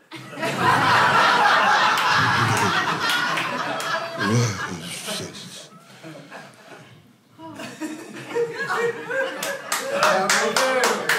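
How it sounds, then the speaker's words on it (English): Audience at a stand-up comedy show claps and laughs, loud and sustained for several seconds, fading briefly midway before a second burst of clapping and chuckles returns. "Clap at my pain."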